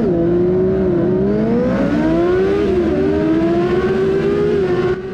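Fiat 600 race cars accelerate together at the start of a Trofeo Inverno 600 Fast race, with loud, sustained engine whine climbing through the gears close by and no talking.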